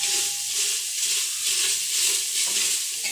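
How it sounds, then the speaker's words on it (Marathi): Onion lightly fries without oil in a pressure cooker for chicken biryani, giving an even, continuous close hiss and sizzle with faint stirring and no talking. "पहिले थोडा हलका फ्राय करून घ्यायचा कांदा"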